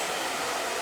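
A hair dryer fitted with an elastic attachment blows steadily during a short layered bob haircut, a loud, close, even whoosh of air with no talking.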